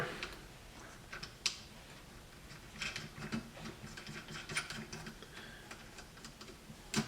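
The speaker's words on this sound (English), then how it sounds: "Gotta put a wrench on it, obviously. Tighten it all down." Ratchet wrench tightening a nut on a Razor Pocket Mod during a performance build, with quiet clicking ticks and a few sharper metallic clacks spread through the clip, fairly faint and close.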